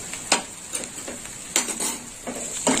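Sautéing vegetables with poppy seed paste in a pan, with a spoon stirring and scraping in several distinct strokes over a soft sizzle, close and alone.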